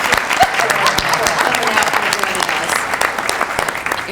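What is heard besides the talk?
audience applause for a panel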